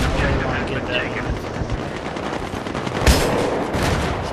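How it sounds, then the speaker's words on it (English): A rocket fired at an enemy in Battlefield 3 booms through dense, continuous battlefield noise of gunfire and explosions, with a sharp blast standing out near the end. "So I shoot that guy with the rocket"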